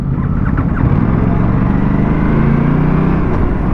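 Aprilia RS sport motorcycle engine on a group ride, a loud steady low drone of engine and road noise that holds close and constant with no break.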